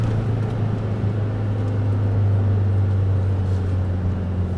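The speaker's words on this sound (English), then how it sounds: "Here's downshifting." A 2012 Volkswagen MK6 Jetta GLI with its exhaust resonator deleted drones steadily while downshifting, a deep, constant low engine and exhaust hum heard close and loud with no talking.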